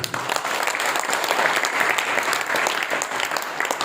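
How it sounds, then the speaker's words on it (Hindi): A room full of people at a networking program applauds loudly, dense sustained clapping that stays strong and steady from start to finish. "बहुत शानदार ताली होगी"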